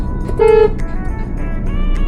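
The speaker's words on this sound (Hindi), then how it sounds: "हॉर्न दीजिए जरा इनको" A car horn gives one short honk during a driving lesson on a town road, heard over the steady hum of the moving car and surrounding traffic.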